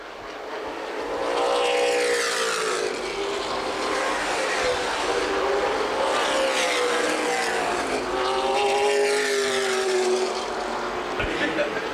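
Late model stock cars roar around the Winchester Speedway oval in a CRA Late Model Sportsman race, a loud continuous engine drone rising and falling as the pack passes, with an announcer calling the race over it.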